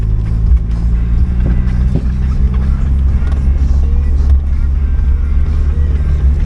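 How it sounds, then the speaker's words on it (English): A 2017 Fiat 124 Spider Abarth engine idles with a deep, rumbling exhaust drone close by, steady throughout with a few small blips. "Don't mind my exhaust that's hitting everything."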